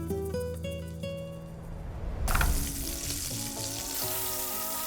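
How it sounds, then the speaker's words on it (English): Ground meat with celery, onion and carrot fries in a pan for Bolognese, a busy sizzle that swells midway, heard under background music. "Our meat is getting there. Roasting, getting a little bit darker, building more flavor."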